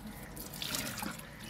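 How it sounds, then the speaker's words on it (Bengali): Faint trickling and splashing water as raw green mangoes are washed, a soft continuous wash with small drips, close and quiet. "ধোয়া শেষ আবার ধুবে মনে হয়"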